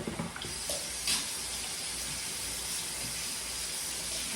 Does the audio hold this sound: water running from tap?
yes